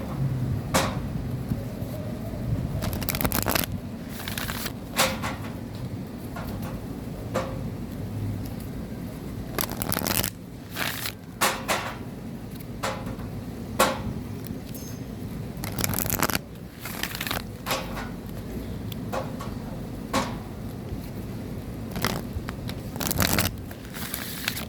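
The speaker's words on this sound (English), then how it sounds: "I'm going to do a 7 shuffles" A tarot deck, an herbal astrology deck, is shuffled by hand in close, repeated bursts of riffling and snapping cards with soft rustling in between, over a steady low background hum.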